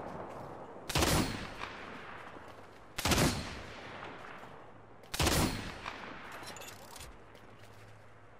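Gunfire in the Apex Legends video game during an ALGS tournament match: three separated bursts of rapid shots, each sharp at onset and trailing off, at moderate level over a quiet background.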